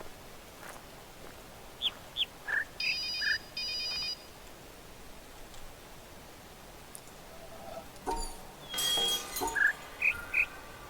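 In the jungle area of the video game The Witness, a cell phone ringtone chirps in short repeated bursts amid scattered electronic beeps and insect-like calls, fairly faint and with no talking.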